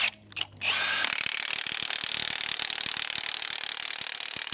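A Milwaukee 3/4-inch impact wrench cracks loose old, rusted nuts with a fast, sharp rattle of hammering impacts. The rattle runs continuously for several seconds after a short rev at the start.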